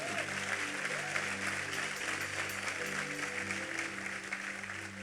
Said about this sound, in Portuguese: Aplauda ele aí bem forte